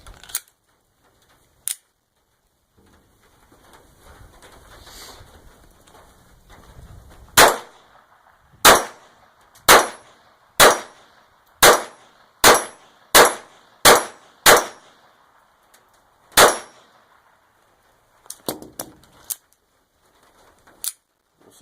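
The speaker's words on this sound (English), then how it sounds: "we'll shoot at some of the orange plates" Ruger SR22 .22 pistol firing at orange steel plates outdoors: a few scattered single shots, then a rapid string of about ten sharp cracks, then a handful more spaced shots.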